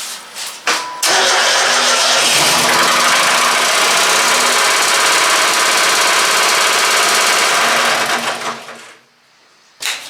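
A loud 2.5-litre engine in a square-body S15 truck cranks, catches and roars steadily for about eight seconds at close range, then cuts off abruptly, leaving a brief quiet.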